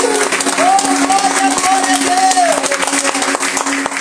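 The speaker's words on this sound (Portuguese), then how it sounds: "Aplauda Ele nessa noite" Congregation clapping during a church service, a steady patter of hands under a sustained voice or singing that carries over it throughout.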